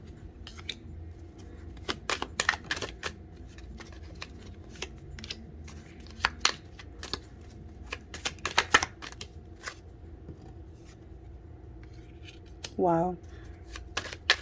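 Tarot cards being shuffled by hand, giving soft, close riffling and slapping bursts scattered across the span, with a voice speaking briefly near the end.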